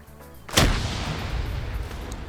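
A single loud grenade blast in the video game Arma goes off with a sharp, booming crack, then fades into a long rumbling tail of echo.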